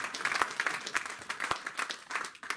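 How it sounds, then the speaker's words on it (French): Applause from a church congregation, a short burst of scattered hand claps with uneven rhythm, moderately near, with a little murmuring beneath. "donnons quand même une acclamation"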